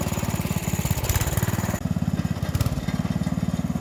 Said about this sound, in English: There goes a man and his tractor.